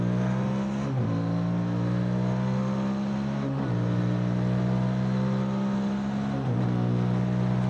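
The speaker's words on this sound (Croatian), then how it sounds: "A kao što i vidite, motor se vozi s lakoćom, bez obzira na njegovu kilažu." A Rieju Xplora 557 motorcycle riding on new tyres, its engine droning steadily with harmonic tones that dip and rise at gear changes around every three seconds, loud and close with no talk.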